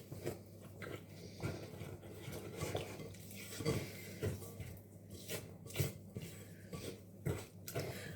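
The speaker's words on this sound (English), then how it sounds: "I'm now just going to add in these 2 beaten eggs with the vanilla essence." Beaten eggs with vanilla essence being stirred into chocolate walnut brownie mixture in a bowl, giving a steady run of soft, close, rhythmic scraping and thudding strokes at low volume, without speech.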